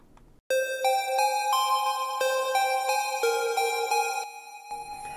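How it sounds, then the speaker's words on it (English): A square-wave pluck from the Serum synth plays a bright, ringing melodic line of about a dozen notes, loud and clean with no voices, after a short quiet lead-in. "So this is just a standard little square pluck."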